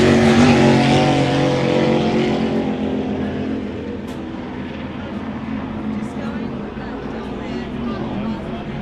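Outboard racing powerboats in an Outboard B race roar past, a loud engine whine that starts strong and gradually recedes into the distance, fading over several seconds with a lingering drone.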